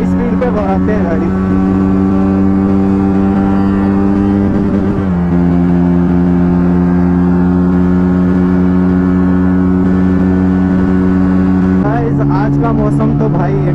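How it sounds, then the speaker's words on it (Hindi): A Benelli 300 motorcycle drones loudly and close while riding at speed, its steady engine hum dropping in pitch at gear changes as it pulls harder, with wind rush throughout. "अभी हाई स्पीड पे बढ़ाते हैं गाड़ी"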